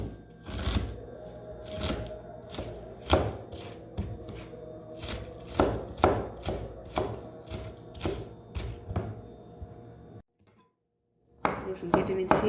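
A knife chops onions on a cutting board in a quick, irregular run of sharp, close knocks. The chopping stops briefly near the end, then resumes.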